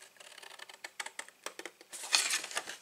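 A blade scores lines in a cardboard box, giving a string of light, quick scratching clicks close by that build into a louder crinkling scrape near the end.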